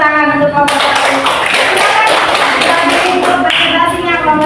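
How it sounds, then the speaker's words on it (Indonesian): A burst of applause for a group presentation in a classroom, dense clapping that continues steadily for a few seconds, loud and close. "Beri tepuk tangan untuk kelompok 1."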